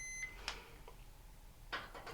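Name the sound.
multimeter continuity test beep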